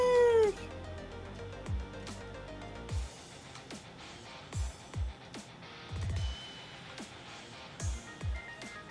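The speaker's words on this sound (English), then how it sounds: "Oh, a kitten. Shoo!" A kitten meows in the Ghost Trick Phantom Detective video game, a handful of short, soft mews spaced irregularly over a quiet background with faint game music.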